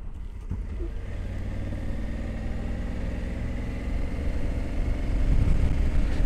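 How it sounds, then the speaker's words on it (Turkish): A motorcycle engine runs steadily throughout while being ridden, a continuous low drone that swells louder toward the end as the bike accelerates. "İşim var motorla gidiyorum."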